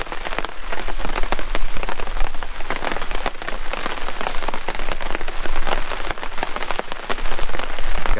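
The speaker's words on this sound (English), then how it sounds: "Got a nice steady drizzle going on." A steady drizzle of rain patters densely and evenly on a tarp at a solo wilderness campsite, close and constant for the whole stretch, with no voices.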